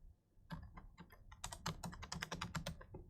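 Rapid, crisp keystrokes on a computer keyboard as an nslookup command is typed, a dense close burst of clicks building after a short pause, with no voices.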